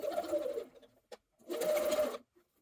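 A sewing machine stitches through all thicknesses along the hem of a bomber style jacket, two short close bursts of running motor separated by a pause and a small click.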